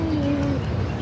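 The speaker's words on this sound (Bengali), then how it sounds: "পাখিগুলো কি সুন্দর ডাকছে" Birds call outdoors beside a pond, with a soft cooing tone drifting under steady outdoor background noise for about a second.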